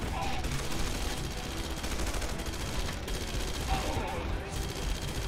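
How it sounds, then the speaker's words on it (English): Enemy gunfire in Red Faction Guerrilla, a steady dense crackle of shooting layered into a busy, fairly quiet battle mix that runs the whole way through. "So many guys shooting at me."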